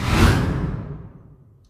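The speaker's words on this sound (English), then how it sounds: "The second one is a plastic bag being shaken out." A plastic bag is shaken out once as a layer for a game explosion effect, giving one loud rushing swish that fades away steadily.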